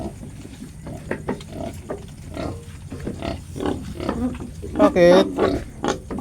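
Piglets grunt and snuffle as they suckle from a large sow, a busy run of short close grunts with a sharper squeal near the end, while a person speaks over them.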